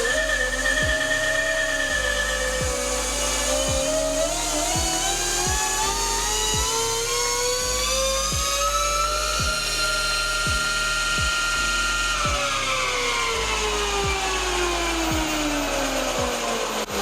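A 72V Burromax XRB electric bike runs hard on a dyno in second gear, its motor whine climbing steadily in pitch then dropping, over a loud continuous mechanical rattle with rhythmic clunks.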